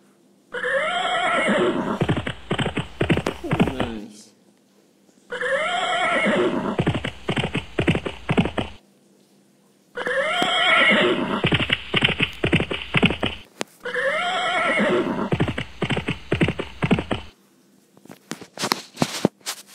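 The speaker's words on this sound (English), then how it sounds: "Horse." A horse neighs in four long whinnies separated by brief silences, each falling in pitch, with hoof clip-clops mixed in, close and loud.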